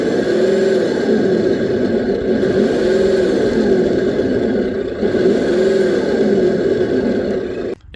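A Tamiya Grand Hauler RC truck, rear axle propped up, runs at full throttle with its turbo sound effect, giving a loud continuous engine roar that swells and dips in repeating waves, then cuts off abruptly at the end.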